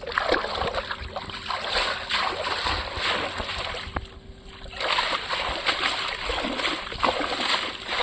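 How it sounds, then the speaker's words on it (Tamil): Repeated splashing and sloshing of water close by as a scaled, gutted fish is swished and rinsed, in uneven bursts with a brief pause midway. "இப்போ தண்ணியில் போட்டு அலசுறாரு."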